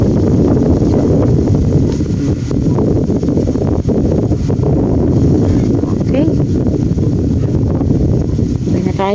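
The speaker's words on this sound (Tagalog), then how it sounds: "Lakas na ng hangin." Strong wind roars steadily across the microphone, a dense, unbroken rumble with faint voices buried underneath.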